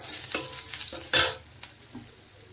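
Turmeric, chilli powder and other spices stir-fry in hot oil for a samosa potato filling, with close scraping stir strokes, a sharp burst of sizzle midway and a few lighter taps afterward.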